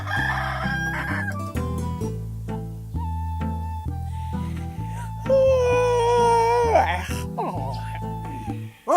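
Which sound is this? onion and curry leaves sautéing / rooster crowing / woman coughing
rooster crowing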